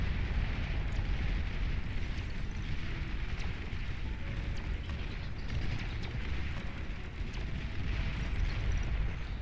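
Bombing-run explosions in the strategy game Beyond All Reason, a continuous low rumble of blasts and bursts rolling together, with occasional sharper pops and mechanical clanks over a dense, unbroken bed.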